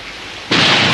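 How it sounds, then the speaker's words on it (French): Cartoon rain suddenly begins mid-clip in an animated French Moomins episode, a loud, steady broadband hiss of downpour that switches on abruptly and continues without pause. "Il pleut."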